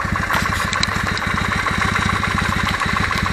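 A Kawasaki W650 motorcycle engine idling with a worn, knocking camshaft timing gear, a loud close rapid even thumping pulse with a metallic tapping clatter riding on top, steady throughout with no voices.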